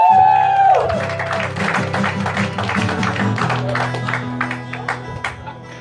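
Audience applause greets comedian John Butera at Dangerfield's comedy club, a warm burst of clapping with whoops rising after a loud musical sting, then patters on under walk-on music and tapering claps.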